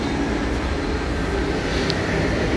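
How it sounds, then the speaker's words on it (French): A train rolls past close by on tracks alongside a large, quiet cemetery in Mechelen, Belgium, a steady loud rumble with rhythmic clatter throughout. "C'est à côté d'un passage des trains."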